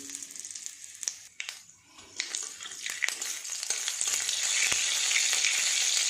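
Panch phoron and a bay leaf frying in hot oil in a kadai, with crackling spits and spatula scrapes that build into a loud, steady sizzle.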